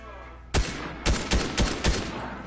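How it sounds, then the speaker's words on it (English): Burst of gunfire in the video game Fortnite, five sharp shots in quick irregular succession after a brief quiet lead-in, fairly loud and clean with no talk over them. "Some of the worst shots of the history of shots."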